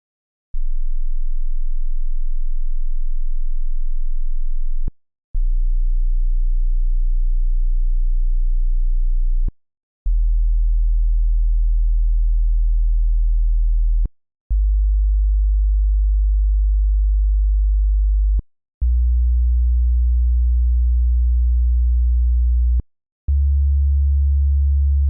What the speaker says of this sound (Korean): 100Hz 밑에 소리가 어떤 소리인지 제가 제너레이터로 소리를 들려드릴게요.